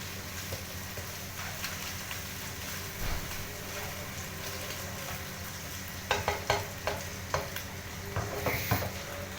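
Cooked chicken fries lightly in hot oil for chicken fried rice, a steady close sizzle with a few sharp stirring knocks and scrapes near the end.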